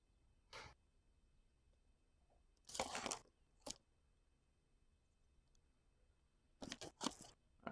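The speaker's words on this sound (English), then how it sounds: "You might hear my dog chewing her bone." A dog chewing her bone on a bed: a few scattered crunching and gnawing bursts, with quiet gaps between them, close by and fairly soft.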